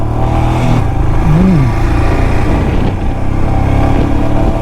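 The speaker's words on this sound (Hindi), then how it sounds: "ओके तो स्टार्ट करते हैं, फर्स्ट गियर और निकलते हैं।" A car setting off in first gear on a road, its engine droning loudly and steadily and rising slightly in pitch as it accelerates, with no talking.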